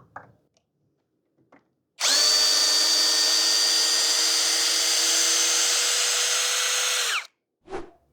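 A brushless 21V cordless drill-driver drives a self-drilling screw into metal tubing, a loud close steady whine lasting about five seconds, with faint handling noises before and a short burst after.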